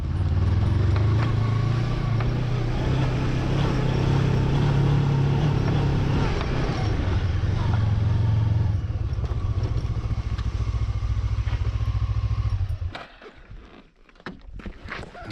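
A cheap motorcycle rides along a highland road, its engine droning steadily and loudly with rattling and road rumble, then cutting out into quieter scuffs near the end.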